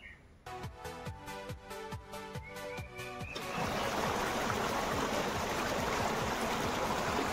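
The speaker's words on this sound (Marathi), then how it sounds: "आमचं लहानसं ओहळ हा बघा." A small stream in the Konkan countryside flowing as a steady, broadband rush of water that fills the latter half, preceded by a run of rhythmic clicking taps.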